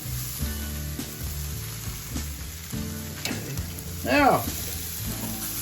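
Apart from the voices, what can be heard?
prime rib steaks sizzling on a barbecue grill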